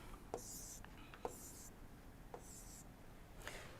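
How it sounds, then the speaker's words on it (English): Chalk or pen writing out a thermodynamics equation in a lecture, short scratchy strokes in quick bursts with pauses between, faint and close under quiet room noise. "So, we are writing like this."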